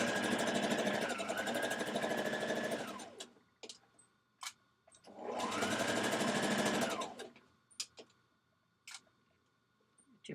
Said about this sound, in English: we're going to sew